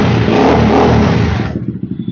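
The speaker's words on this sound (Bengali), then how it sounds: "বাইকের সাউন্ড কিন্তু খুবই অসাধারণ, এক্সিলেন্ট সাউন্ড" A powerful motorcycle engine with a twin-muffler exhaust revs hard and loud up close, then cuts back to a lumpy, pulsing idle in the final half-second.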